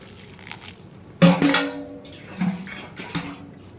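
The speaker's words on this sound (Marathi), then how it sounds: "आता या गव्हावरही पाणी टाकायचं आहे." Water poured over wheat grains that have just been washed three times, a sudden close splash and slosh followed by a few smaller splashes, with no talk.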